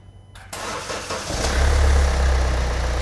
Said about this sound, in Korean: 자, 시동 한번 걸어 주시겠어요? 이제 잘 걸리네요, 이제.